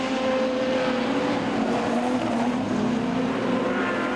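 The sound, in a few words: production sedan race cars racing at Kingaroy Speedway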